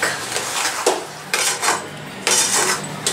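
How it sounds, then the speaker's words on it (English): A thick sweet puran filling stirred in a pan with a metal spoon, giving repeated scraping sweeps and clanks against the pan in an irregular rhythm, close and fairly loud. "you're stirring it continuously because otherwise it will stick"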